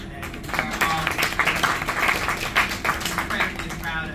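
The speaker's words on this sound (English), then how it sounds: "Yeah, you can clap for that." Audience applause fills a lecture hall at the University of Chicago, a steady clatter of clapping mixed with voices throughout.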